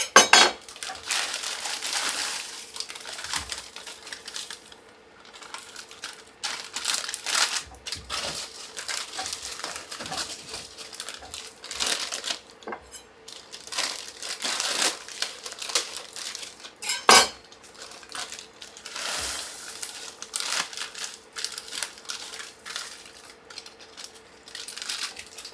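Bags of frozen peas and carrots plus sweet corn tipped into a cooking pot, giving a steady run of rattling, crinkling and clinking for about twenty-five seconds, with a few sharper knocks against the pot and no talking.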